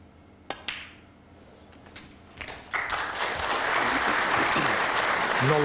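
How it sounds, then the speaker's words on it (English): At a 2002 World Championship snooker semi-final between Hendry and O'Sullivan, a couple of sharp ball clicks are followed by crowd applause that swells in and holds as a full, steady wash. "Knowledgeable applause"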